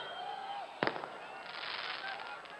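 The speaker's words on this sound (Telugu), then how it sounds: "ఆ టపాకాయలు ఆపాలి బాబు." Firecrackers go off at a political rally in Miryalaguda: one sharp, loud crack followed by a crackling rumble over steady crowd noise.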